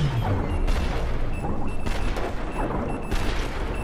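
Explosions in the game Badland, a few loud booming bursts spaced apart over a dense rumbling game soundtrack, with no voice heard.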